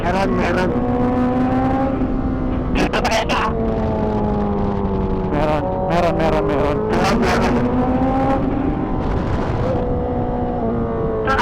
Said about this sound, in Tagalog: May motor na.